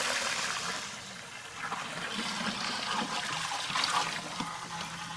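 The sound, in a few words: water poured out while rinsing aquarium sand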